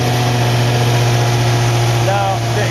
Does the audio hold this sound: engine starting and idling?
yes